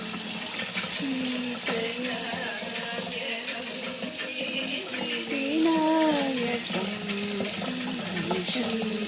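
Hands being rubbed and washed under a running kitchen tap, a steady loud rush of water with splashing shifts, while voices talk faintly over it.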